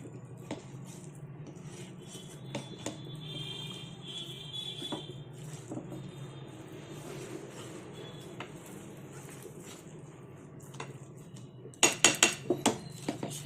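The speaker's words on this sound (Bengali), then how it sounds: "নাড়া বন্ধ করা চলবে না এই যে নাড়তে নাড়তেই ঘন হয়ে এসছে আরও নেড়ে দিতে হবে" Thickening egg barfi halwa being stirred in a wok, giving soft, quiet scraping and shuffling of a spatula against the metal, with a cluster of sharper clinks and knocks near the end.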